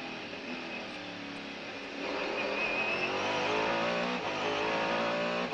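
A race car at the 1998 Le Mans 24 Hours braking hard into Mulsanne corner, its engine a loud, sustained roar that swells in the second half as the car slows from the long straight.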